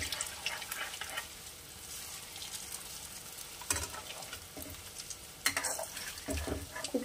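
Rosbora lentil fritters deep frying in oil, with a steady soft sizzle and bubbling throughout, broken by a few louder stirring scrapes and clinks of a utensil in the pan.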